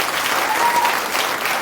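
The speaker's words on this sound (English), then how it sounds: "The audience cheers." A theatre audience at a magic show cheers and applauds in a dense, loud, continuous wash of clapping and crowd noise.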